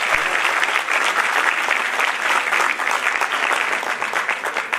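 Steady applause from a crowd at an International Women's Day event, a continuous even patter of clapping with no pauses, fairly loud.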